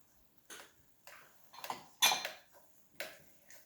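A spoon stirs sour cream into ground turkey stroganoff in a pan off the heat, giving about six separate clinks and scrapes against the pan at an unhurried, roughly half-second rhythm, close and fairly quiet.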